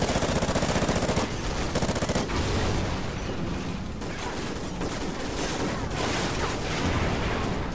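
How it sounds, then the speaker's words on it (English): Rapid automatic gunfire in Call of Duty: Ghosts, dense bursts of shots rattling continuously and loudly for several seconds, aimed at the player with no voices over it. "Where am I getting shot from?"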